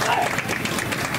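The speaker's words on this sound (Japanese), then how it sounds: "大きな拍手をお願いいたします" Audience applause at a Japan Ground Self-Defense Force band performance, a dense, even patter of many hands clapping throughout, moderately loud, with a voice briefly heard over it.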